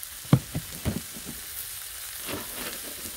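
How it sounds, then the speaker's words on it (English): Tri tip steaks searing on a griddle give a quiet, steady sizzle, with a few soft clanks and scrapes near the start and light stirring noises later on. "we're getting a nice sear on both sides"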